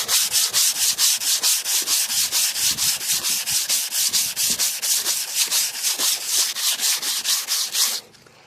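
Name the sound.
sanding the body of a 1988 Cadillac DeVille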